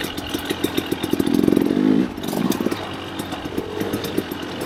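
An off-road bike engine idles and revs at an ATV park, a loud, close, pulsing thump that swells briefly into a higher rev before settling back to a chugging idle.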